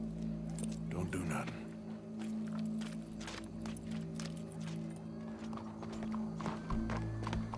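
A horse's hooves clip-clop steadily at a walk in Red Dead Redemption 2, the clicks sitting close over a low droning game backdrop for several seconds.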